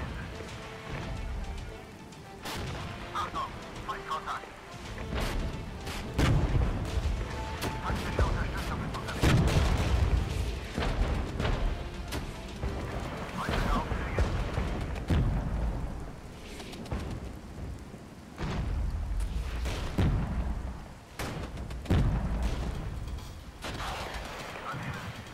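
Artillery fire in a military video game: repeated sharp booms and crackling volleys land at irregular intervals over a rumbling, rain-like battlefield background.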